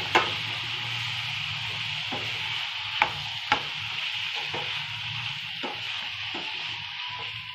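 Dried shrimp (karandi) sautéing in oil over a high flame, a steady close sizzle broken by a few sharp scrapes and taps of a spatula against the pan.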